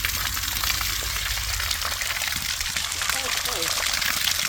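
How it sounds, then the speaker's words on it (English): A water pump driven from a garden hose supply gushes and churns steadily, a loud continuous rush of water with a low mechanical hum underneath, heard close. "it's working well enough that the hose supply can't even keep up with what the pump wants to push"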